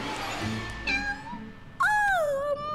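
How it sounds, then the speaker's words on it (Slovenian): A small kitten meows twice, high and thin, with the second cry louder and longer, over a low hum. "Majhna mucka je."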